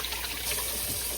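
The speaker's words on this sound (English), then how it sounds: "Rinse off my hands again." Hands rinsed under a running kitchen tap after seasoning chicken, a short steady splash and hiss of flowing water, close and fairly loud, with no talking.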